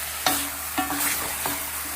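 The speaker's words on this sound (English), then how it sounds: "let's give this a good mix" A spoon stirs duck curry in a sizzling pot, coating the meat pieces, with three distinct scraping strokes over a soft, steady frying hiss, close and fairly quiet.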